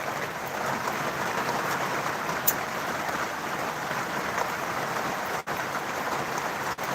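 Very heavy rain pours down outdoors in a dense, steady hiss that holds even and unbroken throughout, with only a couple of brief dips.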